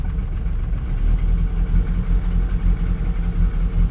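An MG car engine runs steadily at idle, a low, continuous rumble with a slight uneven pulse, close by and with no other sounds over it.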